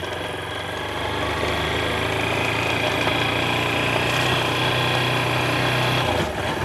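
A steady, droning motorcycle engine runs continuously and loud while riding a road near the Serra de Boqueirão, with constant wind-like roar and little change in pitch.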